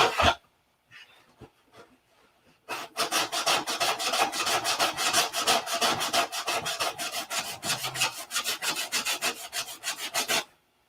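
A P-47 model is sanded by hand in steady, rapid back-and-forth strokes, close and fairly loud. A few faint scrapes come first, then a sustained run of rhythmic rasping that stops abruptly.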